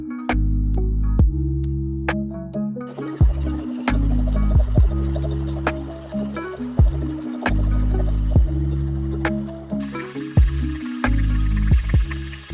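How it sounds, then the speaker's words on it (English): A 50-year-old lathe with plastic gears takes cuts under auto feed, giving a loud steady low hum and throbbing drone with repeated sharp clicks and shifts as the feed engages, no voices. "We'll make a couple cuts with the auto feed"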